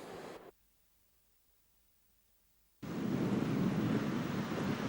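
Cold wind blows by the Norðurá river in Borgarfjörður, heard as a steady broadband rush that cuts out for a couple of seconds and then returns loud and continuous, with no voices.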